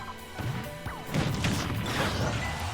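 Wind blade striking a fighter in a Super Smash Bros tournament match, a sharp crashing hit followed by a busy burst of game effects and a rushing whoosh.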